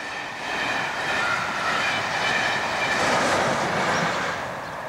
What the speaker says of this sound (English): The calm is disturbed by the fast intercity trains,